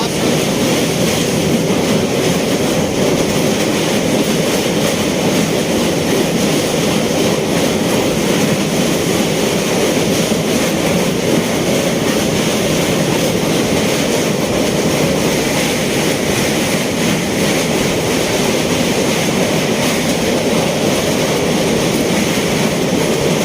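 An Amritsar–New Delhi Intercity Express train runs on rails with a steady, loud, continuous rumble and faint clickety-clack of wheels throughout, recorded from inside the moving coach.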